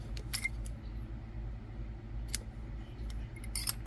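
Scissors snip embroidery floss on a crocheted popcorn piece, with a few crisp, close cutting clicks spaced out over a quiet background.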